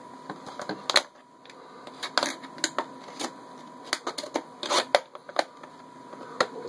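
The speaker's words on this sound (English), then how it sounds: "All the way across the bottle, and we're going to cut it down a bit." Scissors cutting across a plastic bottle while making an improvised snail and slug trap: a series of crisp, irregular snips and crinkly plastic crackles, close and fairly quiet, with no speech.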